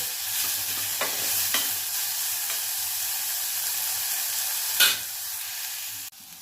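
Onion and tomato frying in a pan with a loud continuous sizzle, broken by a few scraping stirs and one sharper clatter near the end.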